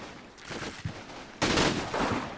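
Machine gun fire in the WWII strategy game Combat Mission: Rome to Victory: scattered rattling bursts at moderate distance, then a louder, sustained volley that slowly tails off.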